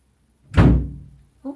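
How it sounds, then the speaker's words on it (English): A door slammed shut by the wind gives one loud close thud that decays quickly, followed by a brief sound at the end. "It's like windy and it like slammed the door on her."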